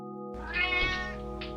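A cat in the video game Her Trees gives one clear, drawn-out meow, close and alone, with steady background tones underneath.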